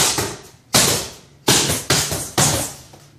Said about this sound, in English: we're just gonna go ahead and throw a palm strike and retract the arm back